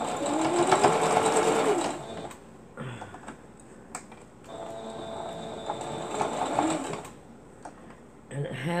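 A sewing machine stitches a yoyo wall hanger in two long, fast whirring bursts separated by pauses, with a voice speaking in the background.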